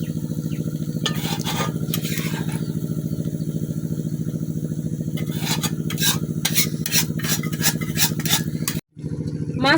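Spiced fish fries in a wok in a village kitchen, a steady hiss and sizzle with bursts of scraping and turning against the pan, close up, over a constant low hum, with a brief drop near the end.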